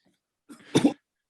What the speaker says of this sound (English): Interesting cough